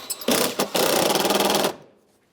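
Power tool snugging a fender liner fastener on a 2008-2010 Ford F-250 Super Duty, a couple of short blips then a loud rapid buzzing whir lasting about a second before cutting off.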